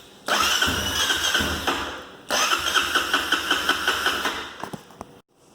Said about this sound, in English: let me just do a cold start, just so you guys can hear it